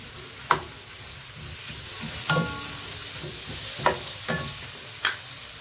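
Onion shaved thin with a potato peeler fries with a soft, steady sizzle in a pan, broken by about five sharp scrapes and knocks of a spoon stirring, close and alone.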